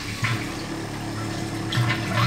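RV water filter pump pushing water through the supply line during a filter test, a steady rushing hiss of flowing water over a low humming drone, continuous and close, with no one talking.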